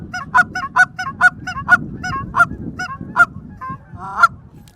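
A hand-blown goose call imitating Canada geese, running a quick series of short honking moans and then clucks in a fast, loud, close rhythm of about a dozen sharp calls.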